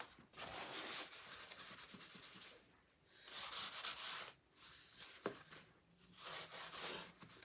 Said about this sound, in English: I'm going to wax that little area.